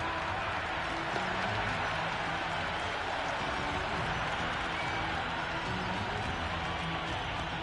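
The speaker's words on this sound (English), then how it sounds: "The spectators are absolutely buzzing right now." Cricket crowd roaring and applauding after a six in a T20 match, a dense continuous wash of cheering and clapping.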